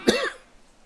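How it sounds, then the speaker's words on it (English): A single sharp cough from a person, close and fairly loud, fading quickly into near silence. "Apologies for the coughs."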